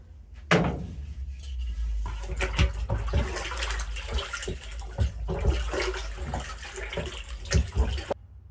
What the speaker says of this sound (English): Here's our back set. We're going to give that a stir.